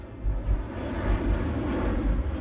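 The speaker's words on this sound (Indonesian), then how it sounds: "dirinya sedang dalam pesawat menuju Libya" An airplane in flight in a film, heard as a steady, loud, low aircraft engine drone that fills the whole moment without speech.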